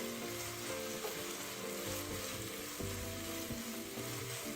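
Minced pork filling with a char siu flavour being stir-fried in a wok, a steady close sizzle and frying hiss with soft scraping stirs, continuous through the short stretch with no voices.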